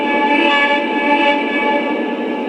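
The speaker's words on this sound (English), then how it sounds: "if you barely tap on the whistle button," A Lionel CSX SD40-2 model train locomotive gives a steady, sustained electronic whistle tone, loud and close, lasting the whole moment with no talking over it.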